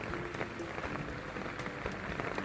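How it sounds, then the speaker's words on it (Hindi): Heavy rain pours steadily in a village in Yelapur, Telangana, a dense continuous hiss and patter close by with no talk. "आज बहुत बारिश हुआ दबा के हम लोग भीगते हुए आए हैं"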